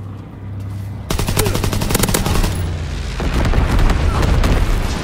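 Sten submachine gun fire in a World War II shooter game, loud rapid automatic bursts that start abruptly and keep rattling close up over a rumbling battlefield background.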